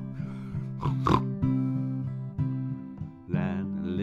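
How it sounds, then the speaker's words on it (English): A pig oinking and snorting in short bursts over a steady musical backing, closer and louder near the end. "That little pig went."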